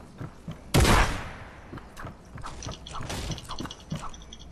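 Gunfire in the video game Fortnite: a loud, sharp opening blast, then a quick run of snappier shots and clattering mechanical clicks over steady game background, with no voices.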